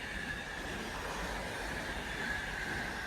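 A steady, loud rumble of a passing refrigerated freight train on the West Coast Main Line at Lichfield Trent Valley, with a continuous metallic hum, unbroken for the whole stretch.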